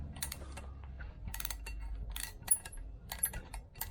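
A thread tap cutting into a through hole on a 1990 left-hand-drive Range Rover: close, quiet metallic clicks and scraping ratchet-like bursts in short irregular strokes, with no talk.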